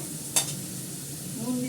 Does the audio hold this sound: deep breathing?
no